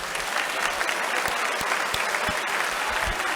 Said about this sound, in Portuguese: A mais bonita salva de palmas para Jesus